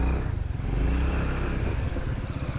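A QJMOTOR ATX 250X 2026 adventure scooter on a test ride, its engine giving a steady, loud, close rumble with a pulsing low drone and wind noise throughout.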